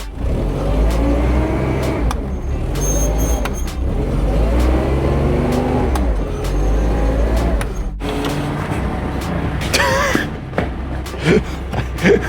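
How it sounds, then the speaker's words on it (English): A forklift engine revs hard while stuck in snow, a loud, close, sustained roar that rises and falls in repeated surges, with a few sharper knocks and clanks toward the end. "Pretty good chances are I get the forklift stuck in the snow right now"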